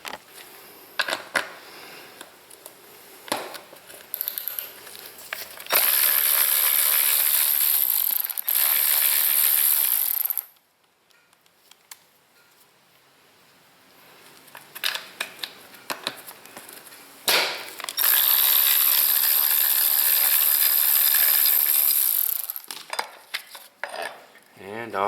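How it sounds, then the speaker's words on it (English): A power tool spinning off two nuts from the back mount of an LED trailer light, two long, loud whirring runs of several seconds each, separated by quieter handling clicks and clatter nearby. "so I'll just take off these two nuts here"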